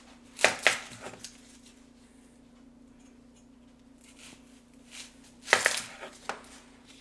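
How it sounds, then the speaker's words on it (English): A knife cuts an onion into strips, giving a few sharp chopping knocks on a board: two close together near the start and a couple more later, separated by quiet stretches. "take our onion and cut it into about 1-inch strips"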